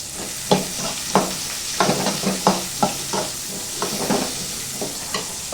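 Small onions sautéing with salt in a pan, a steady sizzle under repeated scraping stir strokes that land roughly every half second, close and moderately loud, with no voices.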